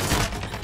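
A single loud point-blank gunshot in a video game Domination match on the Vacant map, a short, heavy blast whose noisy tail fills the brief moment.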